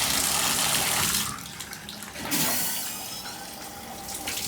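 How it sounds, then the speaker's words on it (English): Shower head in a hotel tub-shower combo spraying hard into the tub, a loud steady hiss that dips briefly and then resumes, close by. "that's a pretty good spray from the shower"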